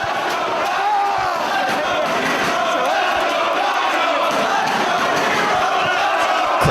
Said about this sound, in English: both of these athletes have their supporters in full voice as Chris Hero